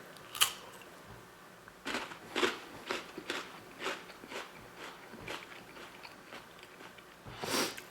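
Close, crunchy chewing of a pretzel with hot English mustard: a series of sharp crunches and bites spaced about half a second apart, with quieter mouth sounds between.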